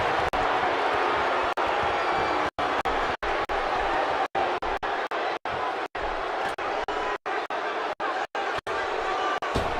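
An arena crowd roaring in the WWE 2K16 wrestling video game, a steady loud wash of cheering and chatter under continuous commentary, broken by brief cuts.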